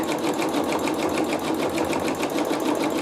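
A sewing machine bastes around a quilt block, its needle running in a steady, fast, evenly pulsing stitch rhythm, close and continuous.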